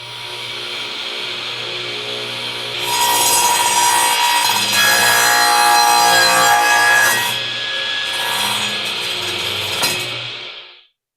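Sears Craftsman radial arm saw crosscutting wood with the blade angled at 30 degrees: a steady motor hum rises into a loud, sustained rasping cut for several seconds, then eases back to running whine before stopping.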